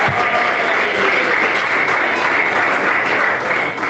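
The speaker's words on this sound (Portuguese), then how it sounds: "Palmas, se engrandece a Jesus." A church congregation applauds during a Portuguese-language worship service: dense, steady clapping fills the room at a strong, even level for the whole stretch, with no voices over it.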